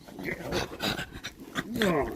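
A dog pants and growls inside a Fiat Ducato MWB L2H2 campervan with short huffs and low grumbles, close by and mixed with voices talking.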